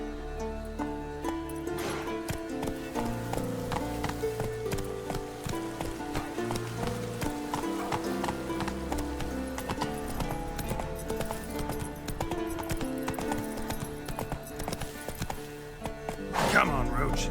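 The horse Roach gallops in The Witcher 3, steady rhythmic hoofbeats running under continuous game music, with a brief louder burst near the end.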